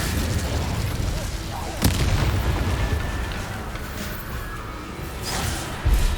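Incendio fire spell cast in Hogwarts Legacy: a dense, continuous roaring whoosh of game fire with a few sharp booming bursts on top, loud and sustained throughout.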